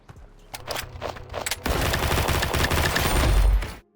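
Rapid automatic gunfire from the mobile first-person shooter Combat Master, starting as separate sharp shots, then swelling into a loud, dense continuous barrage that cuts off abruptly near the end.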